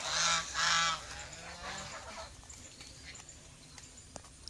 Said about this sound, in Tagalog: Guys, ayun oh, yung mga gansa ni daddy nandito.